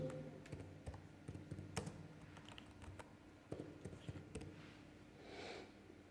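Quiet clicking of computer keyboard keys while entering work breakdown items in Primavera, short bursts of taps with brief pauses, fairly close and soft against a low steady room hum.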